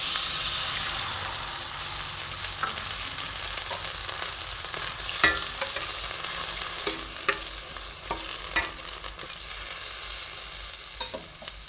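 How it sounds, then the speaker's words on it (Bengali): Water poured into a pan of frying banana stems, bori lentil dumplings and tamarind gives a strong sizzling hiss that gradually settles, with occasional spoon clinks and stirring scrapes close by, no talking. "এবার আমি এতে জল দিয়ে দেবো।"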